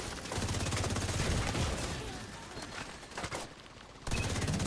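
Gunfire in The Division 2 rattles in a sustained rapid automatic burst, dense and steady, dips briefly, then resumes loudly near the end, with no talking over it.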